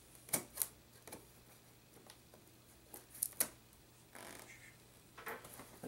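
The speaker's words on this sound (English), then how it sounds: "Cut the damn tape." Packing tape on a Rockford Fosgate T1D412 subwoofer box is cut and torn in a few sharp scratchy bursts with quiet pauses between, close and fairly faint, a longer rasping pull near the end.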